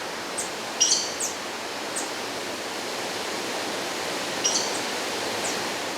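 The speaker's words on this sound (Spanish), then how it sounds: "Las aguas del fresco río Celeste surcan el coloso." Fresh water of the Río Celeste flowing near a waterfall on the Tenorio volcano in Costa Rica, a steady broadband rush throughout, with a few short bird chirps above it.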